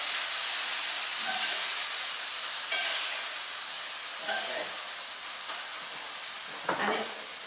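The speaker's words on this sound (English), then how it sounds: "as long as you don't overcrowd your pan will stay lovely and hot and will fry your meat quickly" Lamb pieces fry in a hot pan for a tagine, giving a steady, close sizzle and hiss with a few soft stirring clatters.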